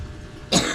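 A single sharp cough bursts out after a stretch of quiet room noise, close and fairly loud.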